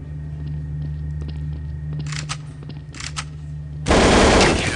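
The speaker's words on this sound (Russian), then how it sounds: "Метких несколько выстрелов, почти все в голову." Game gunfire in Counter-Strike Source on the de_nuke map during a competitive match: scattered quieter shots, then a loud, dense burst of rapid fire closes the clip.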